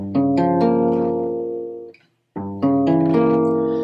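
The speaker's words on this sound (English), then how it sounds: "the final move is going to be going from minor 7 flat 5 to a fully diminished 7th chord" Jazz guitar strums a minor 7 flat 5 chord, lets it ring and fade, then after a brief silence moves to a fully diminished 7th chord, both voiced in root position, played clean and close.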